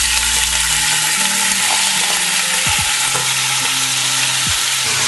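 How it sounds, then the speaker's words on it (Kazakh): Pieces of meat fry in hot oil for homemade lagman, a loud, continuous sizzle with scraping stirring sounds close by, and no talking. "Бірінші қызып тұрған майымызға етімізді қуырып аламыз."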